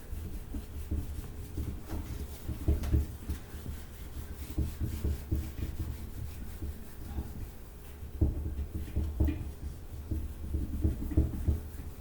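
Eraser wiping writing off a classroom board, making continuous soft rubbing and scraping strokes in bursts, close and moderately loud, with no talk.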